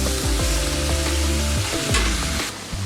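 Ingredients being mixed and fried in a pan with a little added water for a Bengali lentil-fritter and pumpkin-greens chochori, a steady close sizzle broken by repeated scraping stirs, with no talking.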